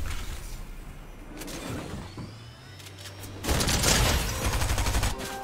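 Shotgun blasts in a video game, a rapid burst of loud gunfire cracking near and sharp in the final two seconds, preceded by quieter game ambience and mechanical sliding noises.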